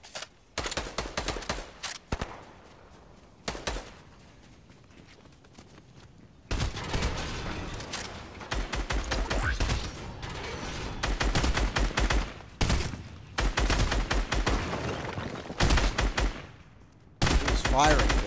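Bursts of rapid automatic gunfire in the video game Fortnite, loud and repeated in several long volleys separated by brief pauses, with players talking over the action.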